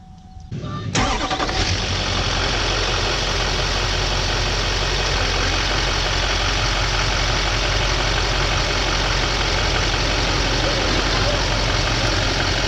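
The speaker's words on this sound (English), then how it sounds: "after you start the vehicle, the AC compressor clutch keeps engaged" A car engine idles steadily and loudly after a brief start-up burst, with the AC compressor clutch engaged, a constant close rumble with no pauses.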